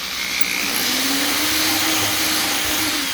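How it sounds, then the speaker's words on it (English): A power tool reams out a bolt hole in the door of a 1969 Corvette, making a steady, loud whirring drone for about three seconds. "I am going to ream it out just a little bit more though."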